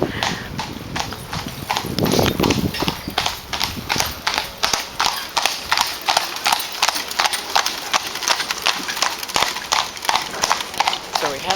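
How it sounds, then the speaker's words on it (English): A procession of white horses passes close by, hooves clip-clopping in a steady, brisk rhythm on a hard road, with voices talking faintly in the background. "a wonderful procession just went by with white horses"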